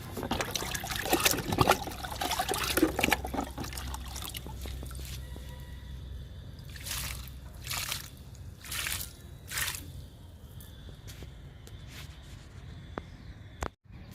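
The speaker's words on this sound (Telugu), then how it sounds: "లూజ్ చేశాను ఇప్పుడు లిక్విడ్ ఇచ్చేద్దాము" Liquid plant fertilizer is poured onto the loosened soil of a potted plant, giving a steady close trickle and slosh that thins out midway into separate drips and short splashes, with no talk.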